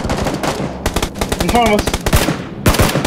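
Rapid bursts of automatic gunfire in PUBG, several close fast strings of shots with brief gaps, while a player speaks briefly over them.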